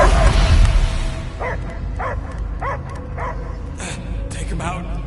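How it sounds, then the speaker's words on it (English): A dog in the video game Marvel's Guardians of the Galaxy gives a series of short barks and yips in a steady rhythm, moderately loud, following game speech at the start and over a low background rumble. "I hear only barking."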